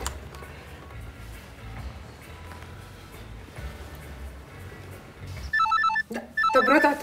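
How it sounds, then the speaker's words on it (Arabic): A telephone starts ringing after several seconds of quiet room noise, its bright electronic rings repeating loudly and close in short bursts. "طب رد على التليفون ده وافتح السبيكر"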